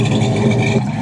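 Close, brief rumble from the engine of a 1994 Land Rover Range Rover Classic with the catalytic converters removed and straight pipes running from the headers to two black chrome tips. The engine holds a steady, throaty idle.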